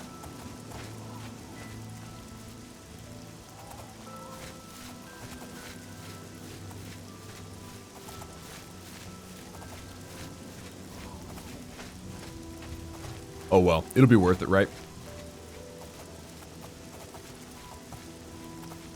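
Steady soft rain falling in the Elder Scrolls IV: Oblivion game world, a continuous gentle patter under faint background music, with a brief spoken remark near the end.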